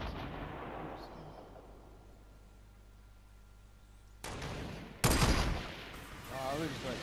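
Gunfire in the video game Fortnite: a soft opening shot fading into quiet, then sharp loud blasts and a heavy boom crowding in during the last few seconds, with a voice faintly under the noise.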